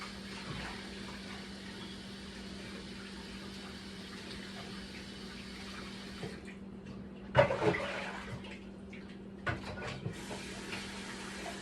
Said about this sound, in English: So I'm going to be washing my saltfish.